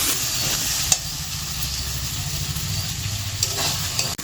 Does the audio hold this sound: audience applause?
no